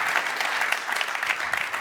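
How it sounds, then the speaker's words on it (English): A room full of people clapping for a speaker at a London startup event, brisk, bright and energetic applause, loud and continuous for the whole short stretch. "let's take 1 second to give him a big round of applause"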